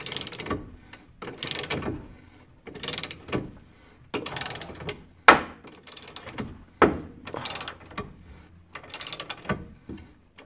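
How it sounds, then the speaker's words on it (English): A ball joint press on a Jeep Cherokee suspension is cranked down in a series of ratcheting, clicking bursts with short pauses between strokes, close and distinct. "you just crank it down. Watch it to make sure that press is in straight"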